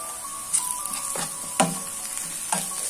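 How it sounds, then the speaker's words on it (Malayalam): Onions frying with a small piece of ginger in a pan for a beef liver pepper fry, a steady close sizzle broken by three or four sharp scrapes and clacks of a spoon stirring, no voices. "ഒരു ചെറിയ പീസ് ഇഞ്ചിയും കൂടി ഇട്ടിട്ട് അത് നന്നായിട്ട് വഴന്നു വരുന്നവരേക്കും ഒന്ന് ഇളക്കി കൊടുക്കാം"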